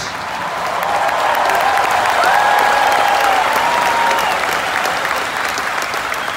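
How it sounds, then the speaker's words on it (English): Stadium crowd applauding at a concert at MetLife Stadium, a loud, sustained wash of clapping and cheering that holds steady from start to finish, with a few faint whistles riding on top. "So give yourselves a big round of applause."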